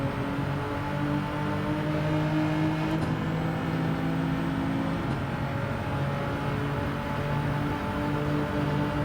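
Race car engine in Gran Turismo 7 droning and revving steadily, with tonal engine harmonics and tire noise, loud and continuous with no speech.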